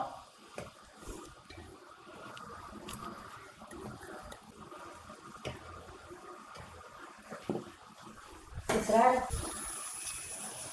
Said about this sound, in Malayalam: ഇപ്പം ശബ്ദം കേട്ടു തുടങ്ങി അല്ലേ ശബ്ദം കേട്ടു തുടങ്ങി എന്ന് വെച്ചാൽ ഇതിലത്തെ വെള്ളം പൊട്ടണതാണ് കേട്ടോ